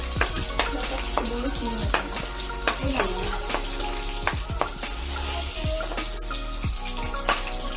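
Garlic sautés in a hot pan. Loud, crackling sizzle is broken by repeated sharp scraping and tapping as it is stirred, close and continuous.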